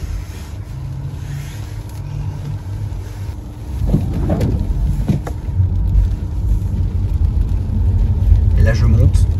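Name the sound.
Tesla RWD car with winter tyres driving uphill on snow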